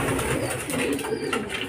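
Racing pigeons back at the loft after a club training flight, soft overlapping cooing and fluttering close by, with a low murmur of background noise.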